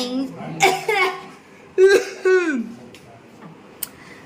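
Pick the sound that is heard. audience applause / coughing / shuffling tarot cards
coughing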